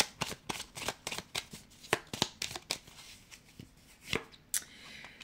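Tarot cards being shuffled and drawn by hand, a quick series of crisp riffling snaps and flicks at close range, fairly quiet, with no talk.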